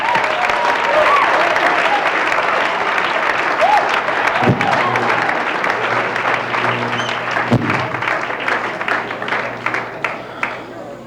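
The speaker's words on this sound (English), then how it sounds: "Please, a nice round of applause for the comedy," A comedy show audience claps and cheers for stand-up comedian Barry Crimmins at a 1984 Tufts event, a loud sustained round of applause that thins into scattered claps toward the end.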